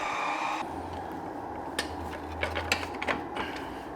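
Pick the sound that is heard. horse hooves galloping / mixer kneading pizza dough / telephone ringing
mixer kneading pizza dough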